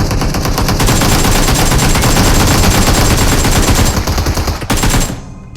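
Sustained automatic fire from an AKM rifle in the PUBG Mobile game, loud and dense, with rapid overlapping shots running almost the whole clip and cutting off abruptly near the end.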